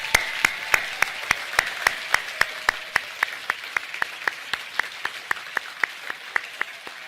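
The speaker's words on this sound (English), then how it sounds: "A final round of applause, please," At a charity awards evening, a single pair of hands claps steadily and evenly in a quiet hall, each clap crisp and distinct in a slow regular rhythm.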